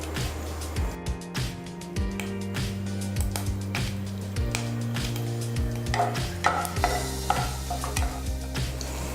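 Brinjal is sautéed in hot oil with curry leaves, with repeated scraping stirs over a continuous sizzle and a steady tonal hum in the background.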